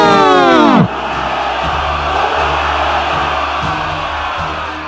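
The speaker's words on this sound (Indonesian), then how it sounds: "langsung bersorak keras sambil mengangkat senjata ke atas" Hundreds of fighters cheer loudly, a massed roar of voices that opens with a strong, sweeping tonal blast, then settles into a sustained crowd swell.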